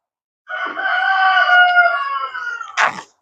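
A rooster crows once, a long, loud, drawn-out cock-a-doodle-doo with a clear harmonic call, nearby and alone, ending in a short rough burst.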